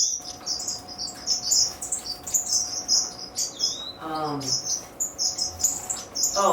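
Small birds in an outdoor aviary chirp and tweet steadily in high, bright calls, several overlapping at once, with a brief flutter of wings and a louder squawk partway through; no talk.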